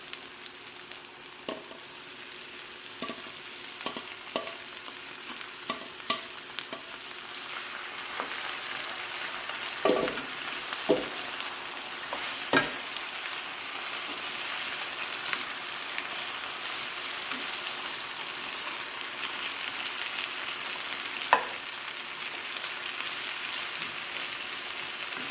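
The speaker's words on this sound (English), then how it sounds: "I'm going to saute the onions and then I will put the pepper once it's kind of brown" Onions saute in a pan with a soft, continuous sizzle, broken by occasional clicks and scrapes of stirring, fairly quiet and close, with no voices.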